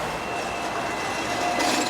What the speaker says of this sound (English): We then took a short ride on the tram, one of my favorite modes of transportation in Hong Kong